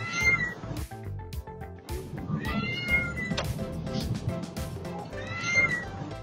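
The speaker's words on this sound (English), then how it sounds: "And of course, the loud meow." A cartoon cat gives loud meows over busy background music, the calls rising above the music several times across the stretch.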